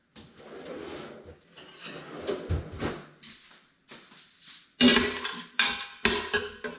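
A spoon and cookware are handled in a kitchen while making squash and sweet potato soup, with scattered clinks, scrapes and knocks of metal on pots, louder sharp clanks toward the end.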